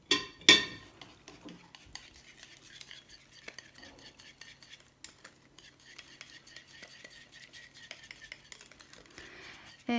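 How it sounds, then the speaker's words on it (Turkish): A whisk stirs salt and red pepper flakes into a mayonnaise dressing for coleslaw, making quiet repeated scraping and light metallic clinks against the bowl after a louder knock at the start. "Tuz ve pul biberi ilave edip karıştırıyorum. Çırpıcıyla daha rahat edeceğim."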